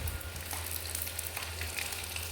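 Chicken fries in a pan in a home kitchen, giving an even, dense sizzle with tiny crackles throughout, fairly close, with a low background hum and no voices.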